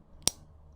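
A single sharp click sounds once up close, a crisp snap of a Baoke fountain pen cap pressed shut in an otherwise quiet room.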